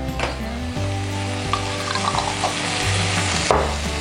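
Chili frying in a pan for a salmon sambal with kecombrang flower, a steady, loud sizzle with occasional stirring scrapes, heard alone without talk.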